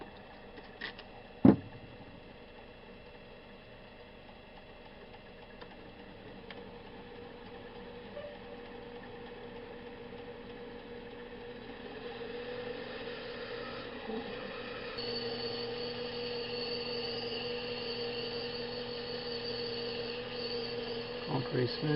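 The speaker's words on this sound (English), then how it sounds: "This way here I can enlarge the hole a little more yet before I go with the boring bar." A metal lathe drills out a hole in a plunge router base part to enlarge it before boring, giving a steady mechanical hum with tonal whine that grows louder and rougher partway through, after a sharp knock near the start.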